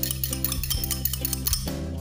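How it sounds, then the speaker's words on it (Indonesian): A spoon clinks and scrapes repeatedly against the inside of a glass, stirring warm water, a quick rhythmic stirring close by with no voices. "Setelah itu kita aduk sampai rata"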